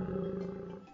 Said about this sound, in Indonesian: Itu bunyi singa.